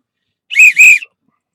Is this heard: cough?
no